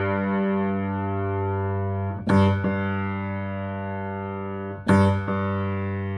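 Piano string being tuned down with a tuning hammer, a sustained ringing tone that slowly shifts, interrupted by two sharp struck re-attacks of the note.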